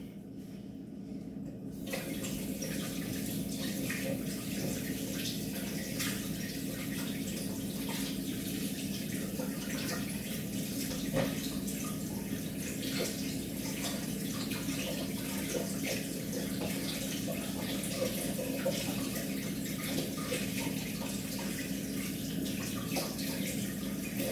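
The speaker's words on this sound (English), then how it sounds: "But before I do anything, I'm gonna wash my hands" Water from a running tap pours steadily and fairly loudly while hands are washed in the middle of bread making, a continuous rushing flow that starts abruptly and carries on with no talk.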